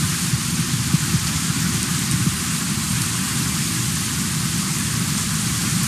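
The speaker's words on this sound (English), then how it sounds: "Just like a stream of rain falling." Steady, heavy rain from Hurricane Matthew in the Carolinas pouring down, a dense continuous hiss with no pauses, close and loud throughout.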